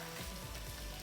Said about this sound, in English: Saute that up.